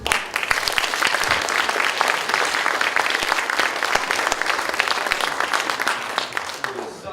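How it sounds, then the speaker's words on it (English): A showcase audience gives a round of applause, loud dense clapping sustained throughout, with sharp individual claps standing out near the front and faint crowd voices mixed in. "And I want to hear a round of applause."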